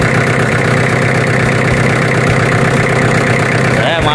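Diesel engine of a Denyo generator set running steadily, a loud, dense, continuous drone with a constant low throb that holds level throughout.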